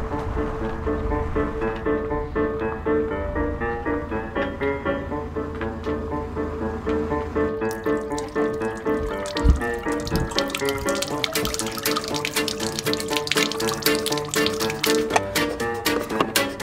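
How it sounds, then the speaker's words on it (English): Water running from a camper's tanks while grey water is emptied and the fresh water tank refilled, a steady close splashing gush that continues throughout and turns brighter and busier partway. "let's just empty our grey water and refill the fresh."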